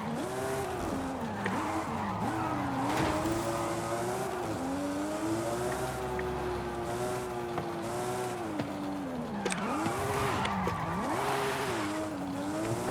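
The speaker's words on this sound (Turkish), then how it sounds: "Gerçekten güzel drift yapıyor." A Nissan Silvia drifting in the Forza Horizon 5 racing game, its engine droning and rising and falling as the tires squeal and skid through long slides, loud and continuous with no talk over it.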